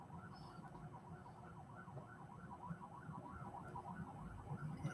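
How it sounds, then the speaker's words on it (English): A distant, wavering fire truck siren cycles steadily up and down under a low rumble of background noise, growing slightly louder toward the end. "That's a fire truck."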